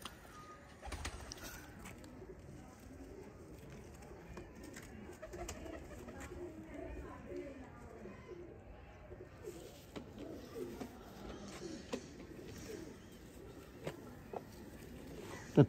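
Sialkoti teddy pigeons coo softly and repeatedly in a loft, low murmuring calls with scattered clicks and shuffles, and a voice speaks faintly at times.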